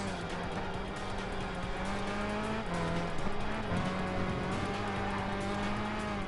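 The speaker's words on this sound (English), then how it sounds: "here comes the Viper" A Dodge Viper race car in Gran Turismo 5 during a 200-mile endurance race at Laguna Seca, its engine droning steadily and loud with shifting pitch as it draws closer, alongside other racing cars.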